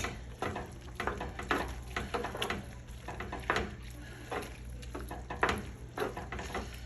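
Cajun chicken pasta sauce with cream cheese stirred in a pan, a steady low sizzle under repeated soft scraping strokes of the spoon, close and moderately quiet with no talking.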